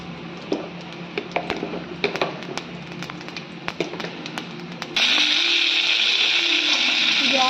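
A mixer grinder grinds peanut chutney and starts suddenly, a loud, steady whirring drone that fills the rest of the scene after earlier scattered kitchen taps and clinks.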